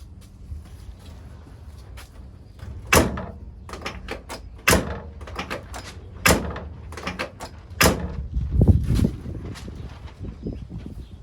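A VW Beetle car door is opened and shut several times during a body-swap build, sharp latching thuds and clunks spaced a second or two apart, with rustling and handling noises between.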